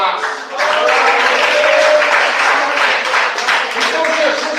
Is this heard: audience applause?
yes